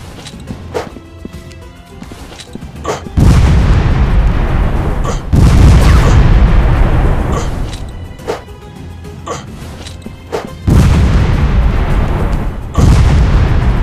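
Gunshots and explosions in the mobile shooter FPS Commando Strike, loud booming blasts and sharp shots recurring every few seconds over a rumbling game background.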